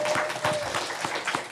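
An audience at a county commission meeting applauds in a steady burst of clapping, moderately loud and filling the whole moment, with a faint tone running underneath.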